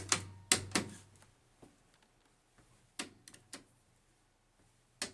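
A hydraulic elevator door at the Wolfeboro Public Safety Building, fitted with Innovation buttons, closes with a series of sharp clunks and clicks, a few louder knocks spaced over several seconds against a quiet hum.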